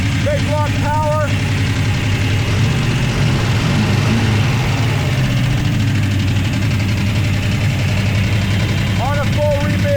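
A deep, steady 1967 Dodge Coronet 440 cubic-inch big block V8 idles with a low rumbling throb throughout, while voices talk briefly over it near the start and end.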